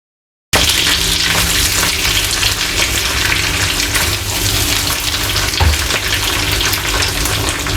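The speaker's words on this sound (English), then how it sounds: "Then I'll proceed to add my chana dal." Chana dal frying in ghee in a hot pan, a loud, steady hiss and crackle that starts abruptly and continues evenly without talk.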